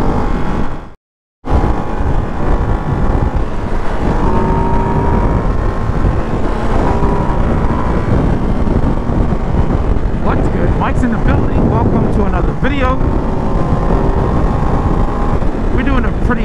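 A Ducati Hypermotard 698 Mono RVE cruising on the highway gives a steady, close engine drone mixed with strong wind buffeting, cut by a brief dropout near the start.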